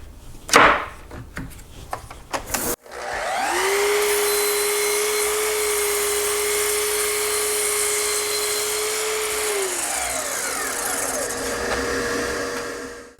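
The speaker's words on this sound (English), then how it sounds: "I'm just going to start cutting these to length." A power saw cutting white oak boards to length: a brief clatter of handling, then the motor spins up to a loud, sustained whine that holds steady for several seconds before winding down, with no talk.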